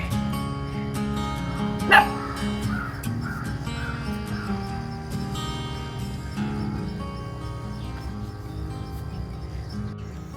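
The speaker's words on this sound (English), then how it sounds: "See the crows right there?" Crows caw a few times at a moderate distance, one sharp call standing out early, over a steady low rumble of background noise.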